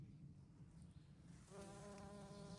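Bees buzz steadily at low volume, with the droning hum growing stronger and more tonal partway through, alone with no voices.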